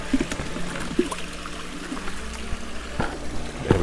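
Pond water scooped and poured into a bucket beside a koi pond, a steady trickling pour with small splashes and a few sharp knocks, close and moderately loud.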